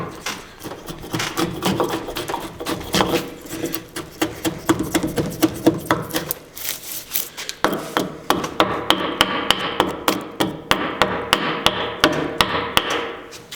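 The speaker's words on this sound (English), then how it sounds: "I take the hatchet and just kind of scrape out some of the loose pieces" A hatchet scrapes and chops loose pieces from a wooden decorative beam being hand distressed, giving a steady series of sharp, close knocks and scrapes that quicken into a regular rhythm in the second half.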